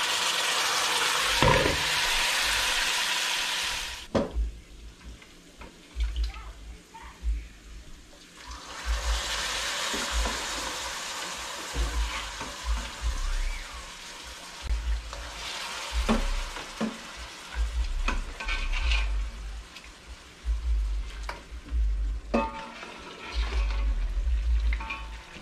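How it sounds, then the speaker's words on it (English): Jamaican-style curry goat is moved from one pot to another, giving bursts of sizzling and wet scraping, then lower clunks and stirring sounds, close by and uneven. "I'm gonna be transferring it from this pot over to"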